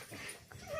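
A shy pet dog whimpers softly, a faint brief whine rising near the end of the moment, heard close but quiet with no speech over it.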